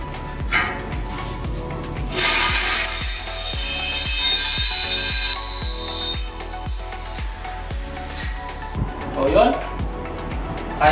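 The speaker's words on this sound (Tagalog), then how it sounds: "Bubutasan ulit natin. Lalakihan lang natin yung binutas natin kaninang maliit." An INGCO 650W impact drill bores into an 8mm steel angle bar, enlarging a smaller hole, giving a loud, sustained high-pitched grinding whine for several seconds over a steady rhythmic hammering thump, then trailing off into quieter handling noises.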